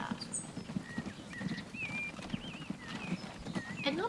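Hooves of a horse pulling a cart in Transport Fever 2, set around 1853–1873, beat out a steady, moderately close clip-clop, with occasional whinnies and birdlike chirps over the game's ambient background.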